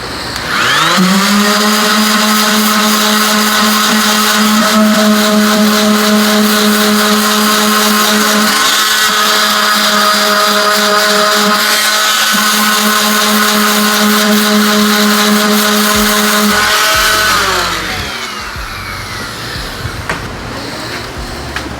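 A loud electric power sander whines at a steady pitch for about seventeen seconds on thin wood veneer, then spins down and stops, leaving a low hum.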